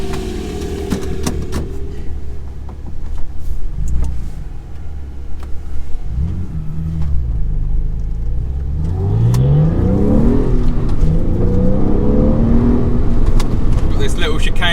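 Porsche 996 Carrera 4S engine revving and rising in pitch as the car accelerates through a road chicane, close and loud, with speech heard over the engine.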